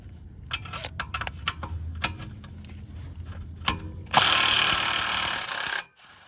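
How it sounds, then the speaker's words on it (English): Close, crisp clicking of a ratchet driving a 13mm socket on downpipe bolts under a BMW B58, a series of short ticks followed by a louder rush of noise. "You've got a 13mm socket and a flathead, you can do this job."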